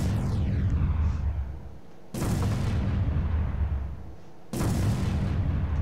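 Meteor impacts destroying objects in the Roblox game Meteor Simulator, three loud booming blasts spaced about two seconds apart, each followed by a rumbling decay.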